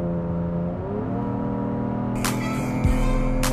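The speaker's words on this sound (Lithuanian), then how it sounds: "Nu ir tas garsas atmosferinio variklio" A naturally aspirated car engine revs up in a steady, rising drone, with two sharp, loud bursts of hiss and roar near the end, heard close and alone.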